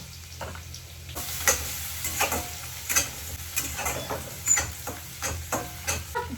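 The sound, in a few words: frying something in oil in a pan, sizzling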